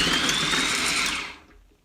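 Kitchen appliance pulsing cauliflower into cauliflower rice, a loud whirring motor with a rising whine that runs briefly and then spins down to quiet.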